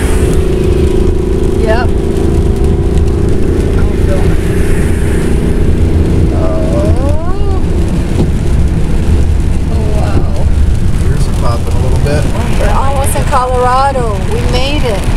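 An RV travels down the road toward Colorado, with a steady loud engine and road rumble running throughout while people talk over it in the cab.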